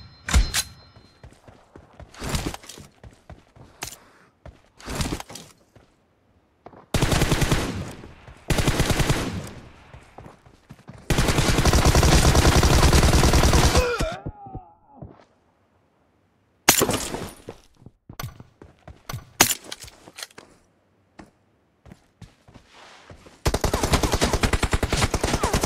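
Gunfire in the video game PUBG during a one-on-one custom match: sharp single shots and clusters of rapid automatic bursts, with several long, loud sustained volleys separated by quiet gaps.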